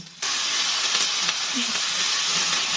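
Ginger, onion and garlic frying in a pan, a sudden steady sizzle that starts after a brief quiet moment and continues as an even, close hiss.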